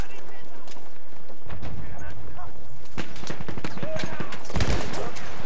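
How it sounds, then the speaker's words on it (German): Rapid bursts of self-loading rifle gunfire in the video game Battlefield 1 crack repeatedly, loud and close, with a heavier blast near the end and faint voices mixed underneath. "das war doch wieder nur ein Schuss mit der Selbstladebüchse"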